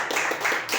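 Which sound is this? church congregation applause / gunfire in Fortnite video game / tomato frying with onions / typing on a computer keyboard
church congregation applause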